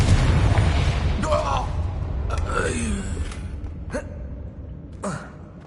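A spell blast in Hogwarts Legacy, a booming fiery burst followed by rumbling and scattered magical whooshes and pops, with game voices and gasps heard over the noise.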